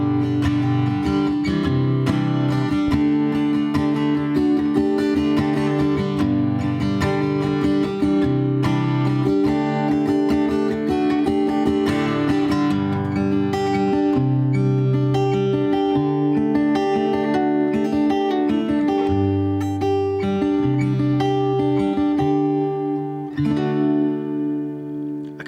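A warm, rounded guitar through a Schertler David amp with its warm switch engaged and an AG6 pickup plays a continuous strummed and picked passage, full and mellow in tone, steady throughout before easing slightly at the end.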